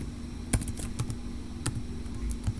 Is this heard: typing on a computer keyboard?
yes